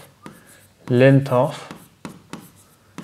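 Chalk or marker writing math on a board, a few short scratchy strokes and taps around someone speaking in Hindi.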